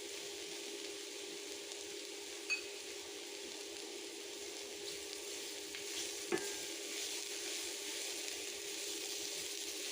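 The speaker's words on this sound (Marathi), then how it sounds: "त्याच्यामध्ये आपण कॅप्सिकम पण घालून घेऊया." Capsicum frying in oil over a fairly high flame while being stirred, a steady close sizzle running throughout with a couple of faint utensil clinks.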